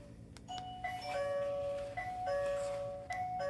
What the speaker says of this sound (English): whenever anybody rings the doorbell